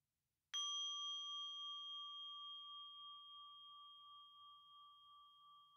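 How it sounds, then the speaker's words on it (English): A single clear bell struck once for a mindfulness practice, ringing out alone with a bright metallic tone that sustains and slowly fades in a quiet room. "I'm going to ring a bell"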